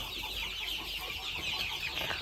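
Chickens and young chicks cluck and peep together in a coop, a busy, moderately quiet chatter that carries on throughout.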